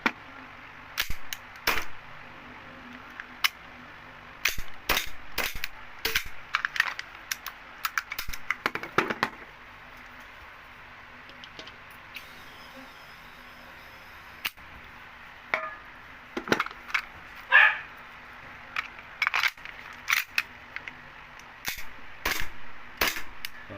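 E&C Hi-Capa airsoft pistol firing BBs on a test after repair, a string of sharp, close snapping shots in irregular bursts with short pauses, over a faint steady background hum.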